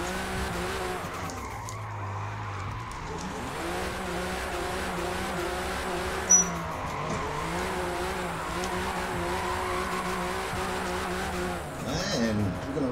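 A 656 HP BMW M2 drifting in Forza Motorsport, with a sustained engine drone and long tire squeal held through the slide, loud and continuous, plus a brief sharp spike midway.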